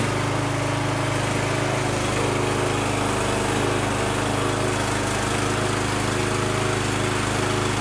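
An MTD lawnmower engine runs steadily, a loud, close, continuous buzzing drone with a fixed rhythmic hum that never lets up.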